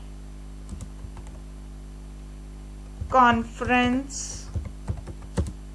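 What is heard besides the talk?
typing a query into a chat box on a keyboard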